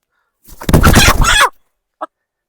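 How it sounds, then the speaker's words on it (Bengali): A single loud cluck-like squawk from a red native chicken, close by, followed by a short faint click after a pause. "মা দেখো কি সুন্দর একটা দেশি লাল মুরগি।"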